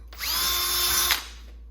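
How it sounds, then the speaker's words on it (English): A power drill fitted with a 15/64 bit, working on a DRZ400SM motorcycle's PAIR valve setup, whirs in one short close burst of about a second, spinning up and then cutting off. "the final drill bit size I'm using is actually a 15/64"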